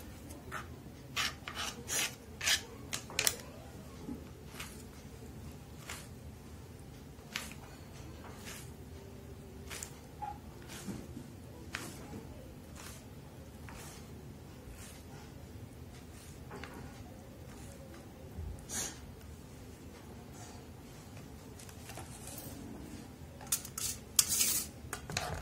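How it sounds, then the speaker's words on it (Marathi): A knife slices okra thinly on a cutting board, repeated short close scraping cuts in a steady rhythm, alone without talk. "भेंडी पातळ पातळ कापून घ्यायचे आहेत. जास्त जाड नाही कापायची."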